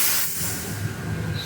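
An espresso machine steam wand steams milk with a steady, close, bright hiss, and low gurgling and bubbling swirl beneath it.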